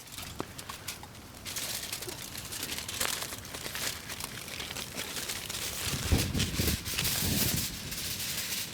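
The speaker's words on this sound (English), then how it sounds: "Now I'm going to wrap each one individually in its own aluminum foil." Aluminum foil crinkles and crumples near at hand as it is wrapped around pork ribs, a steady rustling texture with brief sharper crackles and no talking.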